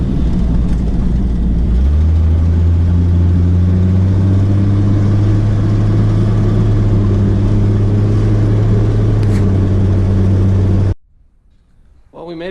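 A Jeep XJ with the 4.0 engine idles loudly and steadily close up, in a low droning hum. It cuts off abruptly near the end.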